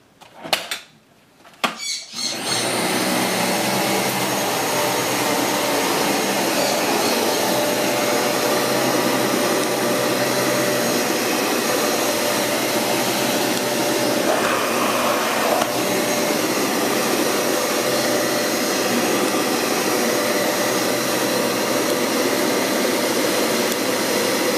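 A new Dyson Cinetic vacuum cleaner runs during a home noise test, starting after a few clicks and then holding a loud, steady roaring whine close by for the rest of the clip, with no one talking.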